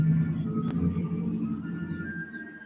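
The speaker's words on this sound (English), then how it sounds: "Do you hear those birds?" Faint bird chirps and tweets in the distance over low outdoor rumble, with a single sharp click partway through.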